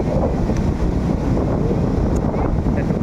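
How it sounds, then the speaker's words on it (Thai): Big waves roll and break at Kata Beach in Phuket under strong midday wind, a dense steady roar of surf with wind rumbling across the microphone and faint voices in the background. "ลมแรง"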